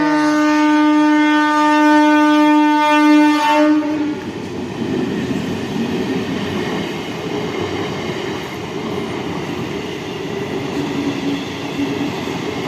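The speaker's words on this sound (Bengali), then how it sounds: "এই দেখো, এবার আসতে চলেছে আমাদের" The Sonamukhi express train passes a railway crossing. A long, loud horn blast is followed by the steady rumble and clatter of wagons rolling close by.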